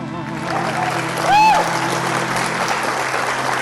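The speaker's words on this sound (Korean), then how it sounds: "다시 한번 큰 박수 부탁드리겠습니다" An audience at a stage performance applauds: a steady, dense wash of clapping from a crowd that holds evenly throughout, with a brief whistle rising over it near the middle.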